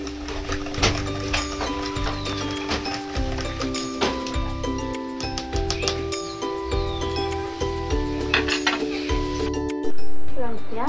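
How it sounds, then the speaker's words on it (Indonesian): A spoon clinks repeatedly against the inside of a glass, stirring a sugar solution in a steady rhythm, with background music playing throughout. "Aduk hingga homogeen."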